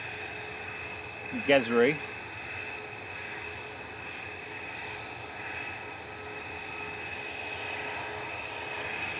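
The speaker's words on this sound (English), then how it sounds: "737 MAX 8 flight 2684 there. EasyJet lining up." An EasyJet Boeing 737 MAX 8 lining up for takeoff at Manchester Airport gives off a steady, moderate engine hum with a thin whine, broken early by a short spoken word.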